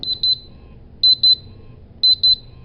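A QRAE II gas detector in alarm during calibration, sharp high-pitched beeps in repeating bursts of three to four quick pulses, roughly one burst per second, loud and clear over a quiet background.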